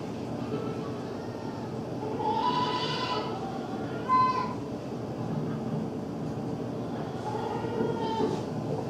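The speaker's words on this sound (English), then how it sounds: "even just hearing those goats" Goats bleat on a goat farm, several wavering cries rising now and then over a steady, noisy outdoor background, moderately near but not loud.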